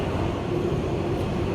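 An R211 New York subway B train runs along its route, a steady loud rumble and roar of wheels and motors close by, filling the short stretch with no voices.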